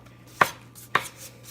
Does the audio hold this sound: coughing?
no